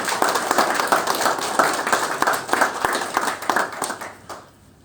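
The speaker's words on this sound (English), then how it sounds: "Thank you for that round of applause." A memorial gathering's audience claps in a sustained round of applause, dense and steady for several seconds before tapering off into quiet at the end.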